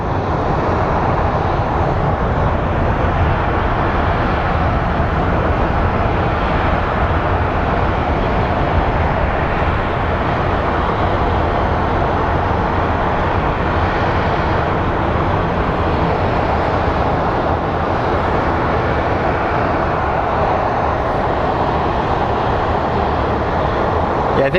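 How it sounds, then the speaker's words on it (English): A Southwest airliner bound for Las Vegas at Phoenix Sky Harbor airport gives off a steady, loud jet roar that holds broad and even for the whole stretch, with no breaks. "next is Southwest 4078 going to Las Vegas"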